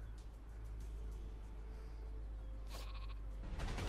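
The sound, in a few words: sheep weapon bleating in Worms W.M.D video game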